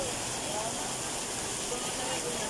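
Heavy rain falls in bad weather in Sta. Cruz, Manila, making a loud, steady, unbroken hiss that fills the entire stretch with no gaps.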